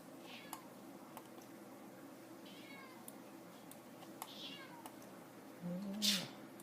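A domestic cat gives one clear, fairly close meow near the end, after several seconds of quiet room hum broken by faint scattered clicks.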